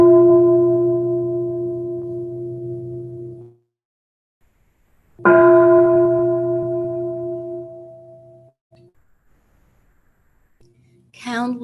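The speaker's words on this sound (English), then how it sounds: "Let's hear a couple sounds of the bell" Meditation bell struck twice, each strike a loud, clear ringing tone with strong harmonics that fades slowly over several seconds, followed by a short rising voice at the end.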